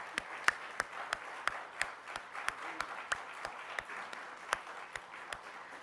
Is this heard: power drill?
no